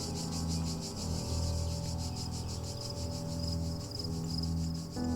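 Cricket chirping ambience from the video game The Talos Principle, a steady, dense layer of pulsing insect trills that runs continuously over a low droning background, with no talk.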